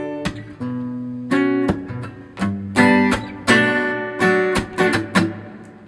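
Acoustic guitar chording through the closing chorus bars of a song in a live acoustic style: a string of about eight full, ringing strummed chords in a steady, halting rhythm, played alone and up close.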